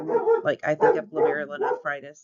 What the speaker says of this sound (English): Sorry about my dog, there she goes again.